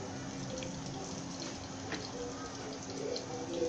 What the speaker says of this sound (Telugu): మిరపకాయలు వేస్తున్నాను ఆవాలేస్తున్నాను